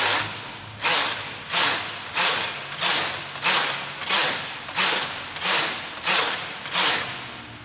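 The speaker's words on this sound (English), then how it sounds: "Then I will knit 12 rows in total." Knitting machine working rows of a chunky cardigan: about ten loud, evenly spaced carriage passes, each a rising mechanical rasp that tails off, with no talking.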